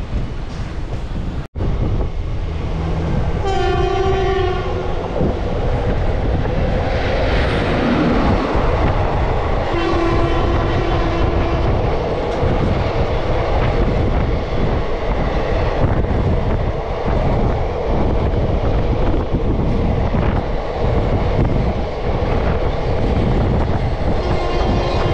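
The Malda Town–Azimganj passenger train running along the track, a loud continuous rumble with rhythmic clickety-clack of wheels and heavy wind buffeting from close by, with no speech.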